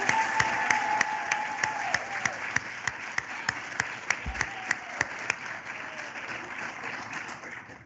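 Sustained crowd applause for medical laboratory science graduates fills a ceremony hall, with a regular sharp clap standing out above the steady clapping of the room.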